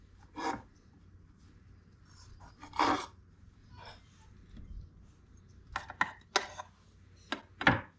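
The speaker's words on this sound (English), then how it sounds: "go ahead and chop your tomatoes big" Tomatoes being chopped with a knife on a board, a handful of separate sharp chops with pauses between them, then a quicker cluster of knocks toward the end, close up and fairly quiet.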